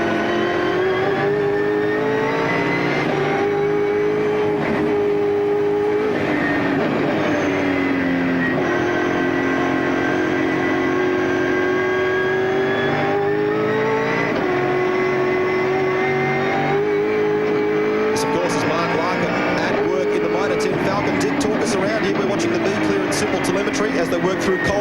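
V8 Supercars race cars at Barbagallo Raceway in the 2000 championship work through Cold Corner with a continuous, loud engine roar that rises and falls through gear changes. A commentator talks over it throughout.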